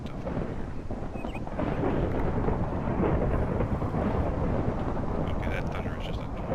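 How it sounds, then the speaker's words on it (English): Thunder from a storm in the video game Minecraft, GregTech New Horizons modpack, rolls on as a long low rumble mixed with a rain-like hiss, steady and fairly loud throughout. "that thunder is just annoying as hell."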